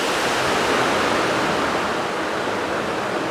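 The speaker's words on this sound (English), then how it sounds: "a water monument, but you can walk out into the water." Water pouring at a walk-in water monument in a park on the edge of Taipei, a loud continuous rushing wash like a small waterfall, steady and close with no voices.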